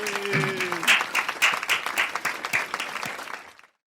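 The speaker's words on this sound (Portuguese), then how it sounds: "pela 100ª vez, uma salva de palmas pra nós!" Applause for a podcast's hundredth episode, a few people clapping and cheering at close range, with voices over the start before the claps stop abruptly.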